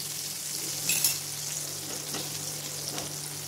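Chicken pieces for homemade fried chicken fry in oil over a medium flame, a steady close sizzle and crackle with a few brief louder pops.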